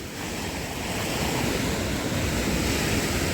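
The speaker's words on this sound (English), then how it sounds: "So that's the waterfall that I don't want to get it caught up in." River water swollen after floods rushing steadily toward a waterfall, a loud continuous broadband roar with no breaks throughout.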